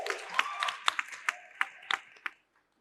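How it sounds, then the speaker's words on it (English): Scattered applause from a conference plenary audience welcoming a speaker to the stage, a handful of distinct claps and a brief whoop, fairly close, fading out to silence after a couple of seconds. "please, a round of applause for Nziza"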